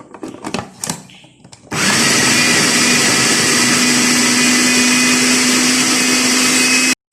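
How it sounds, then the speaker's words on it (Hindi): An electric food chopper whirs loudly and steadily as it chops broken bread slices with vegetables for vegetable kofta kababs, starting abruptly after a few brief clatters and running continuously at high volume until cut off. "2 ब्रेड स्लाइस ये भी तोड़कर इनको भी साथ ही में चॉप कर लूँगी।"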